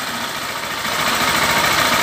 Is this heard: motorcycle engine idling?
yes